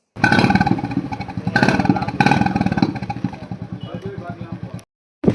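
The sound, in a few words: Royal Enfield Bullet motorcycle engine with modified silencer exhaust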